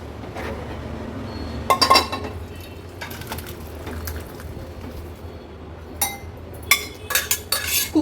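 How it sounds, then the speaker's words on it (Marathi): Whole masoor lentil curry being spooned out of a pressure cooker into a pot, with sharp metal clinks and scrapes of a ladle against the vessels. The knocks come in close, irregular bursts over a low background hum, with no talking. "एका पातेल्यामध्ये मी ही काढून घेते।"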